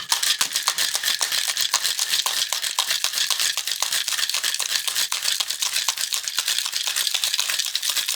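A cocktail shaker with ice for a frozen cherry drink is shaken hard and fast, a loud, even rattle of rapid clacks near the mic for several seconds without pause.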